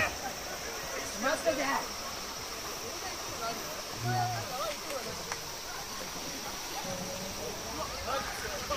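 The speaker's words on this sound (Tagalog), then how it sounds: "medyo parang malakas yung agos ng tubig" Steady rushing of a fast-flowing stream in Hamamatsu, Shizuoka, Japan, a constant broadband wash with occasional splashes and faint voices in the background.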